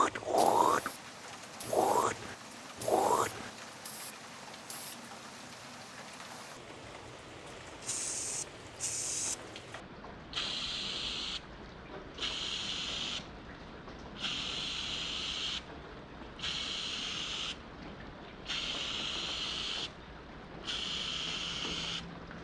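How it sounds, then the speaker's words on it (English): K&N filter oil sprays in several short, even bursts across an air filter, each hiss lasting a second or two with brief pauses between, close and clear after some earlier handling noises. "it says to spray it 3 inches away across the crown"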